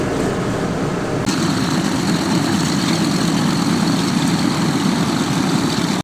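A Douglas Super DC-3 (R4D-8) radial engine starts up in Microsoft Flight Simulator, a steady loud droning rumble that settles into a continuous idle with a slight shift in tone early on and no break.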